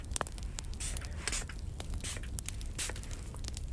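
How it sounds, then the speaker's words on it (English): Florida water is sprayed from a bottle in a quiet close-miked setting, with several hissing mist bursts separated by gentle scraping and handling noises, all steady and fairly near. "I'm gonna spray some Florida water because I feel like it helps bring in positive energy."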